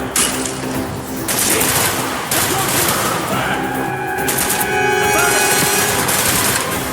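Sustained rapid gunfire in a Call of Duty: Black Ops campaign battle aboard a ship, dense overlapping bursts and loud booms with in-game voices shouting over the din.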